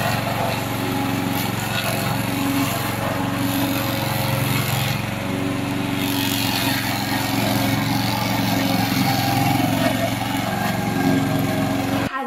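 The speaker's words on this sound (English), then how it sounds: "This is our remote controller mower." A remote-controlled lawn mower runs continuously with a loud, close engine drone and a buzzing rattle. It stays steady for the whole stretch with no voices.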